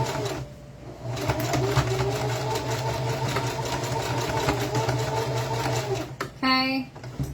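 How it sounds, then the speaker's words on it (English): A home sewing machine runs a zigzag stitch forward and then backward while making horsehair pageant bows, keeping up a steady close mechanical whir. It stops near the end for a short rattling burst as the hand wheel turns. "So I'm going to start zigzagging, go forward, go backwards to lock it in place."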